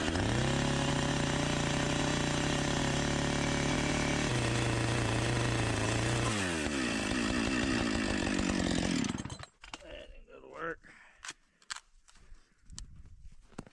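A chainsaw cuts a square hole in a wooden trap box outdoors in the snow. Its loud, steady engine drone runs for about nine seconds and changes pitch as it bites, then stops abruptly, followed by scattered quieter knocks and clunks.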